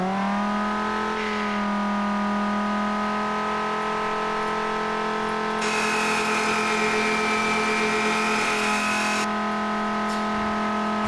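A video-game car engine held at a steady high rev around 5200 RPM in BeamNG, droning loud and continuous with a brief rise in pitch midway, no talking.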